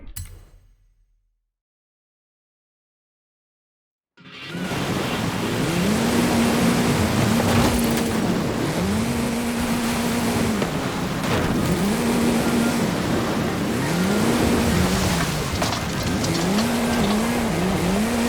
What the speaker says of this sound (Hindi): ये वाटरफॉल के पीछे डाली जाए गाड़ी